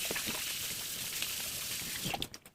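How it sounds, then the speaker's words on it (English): Warm water runs steadily from a kitchen tap as hands are washed beneath it, a continuous soft hiss that breaks into splashy spatters near the end, with no talking. "And then I want to wash my hands"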